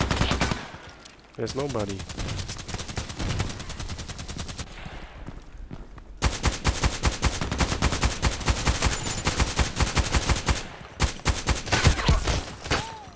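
Rapid automatic gunfire in the shooter game Contract Wars, with the FN SCAR-L among the weapons, crackles in long dense bursts and short pauses, growing louder toward the end, with someone speaking briefly over it.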